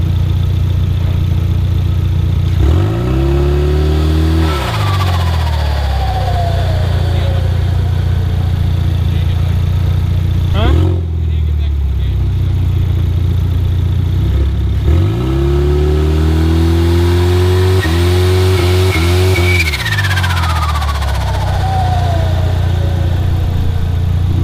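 A drag car roars off the line during transmission brake testing at a quarter-mile event, its engine swelling in loud rising sweeps that fade into the distance, then a second launch near the end with rising and falling tones over steady crowd and track noise.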